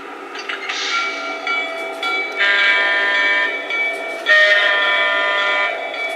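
A Lionel prewar-inspired O-gauge model freight train, set 7-84512, runs nearby with a steady rolling rumble and bright metallic ringing whine that rises and falls as it moves along the track.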